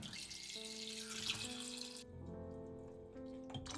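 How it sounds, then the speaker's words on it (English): Water poured into a pot of peeled chestnuts in a home kitchen while making Japanese simmered chestnuts, a steady close splashing and gurgling that softens into a lighter trickle partway through, with no talking. "I add the water again."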